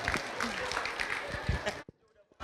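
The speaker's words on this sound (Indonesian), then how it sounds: "Tepuk tangan dulu dong buat Jihan dan juga Sawah." An audience at an Islamic elementary school, SDIT Said Na'um, claps for a student in a dense burst of applause that stops abruptly, leaving a few scattered late claps.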